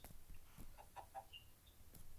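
Chickens in a Minecraft-style video game give a few short, soft clucks over faint background noise, with no talk.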